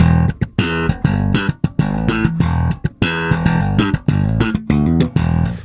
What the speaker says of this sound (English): if you're going to be slapping, scoop the mids out of your bass.